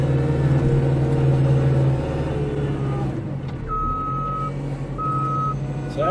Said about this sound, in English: Turn on my reverse beeper, backup beeper.